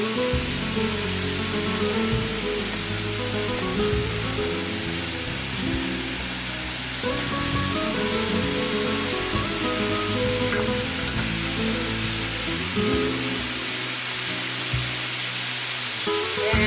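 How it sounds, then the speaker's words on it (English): Salami in its casing sautéing in red wine in a pan for Spanish tapas, a steady close sizzle and frying hiss that runs continuously for the whole stretch with no voices. "And you can just saute it with the red wine."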